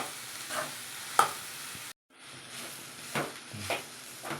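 Banana flower dal usili being stirred in a pan, with soft scraping spoon strokes and a light sizzle running steadily, broken by a brief silent gap midway before the stirring resumes.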